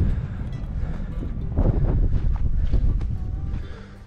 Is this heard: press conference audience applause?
no